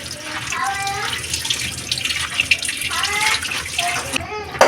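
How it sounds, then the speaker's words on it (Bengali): Tap water runs steadily over a bitter gourd being washed in a kitchen sink, a close continuous splashing with a voice faintly heard in the background. "উচ্ছেটা এবার ভালো করে আমরা ধুয়ে নেব"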